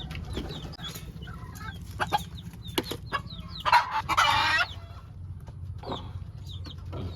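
Chickens cluck and chatter on a farm alongside chicks, with scattered short calls, a brief burst of busy squawking or wing flapping midway, over a steady low background hum.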